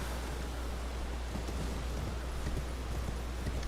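Horse hooves clopping in a rapid, continuous rhythm while riding on horseback in the video game Elden Ring, set over a steady low background wash with no talking.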